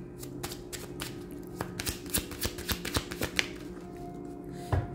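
Tarot cards shuffled and dealt at a reading table, heard as a run of crisp, close snaps and flicks at an uneven pace, with a soft hum underneath and no speech.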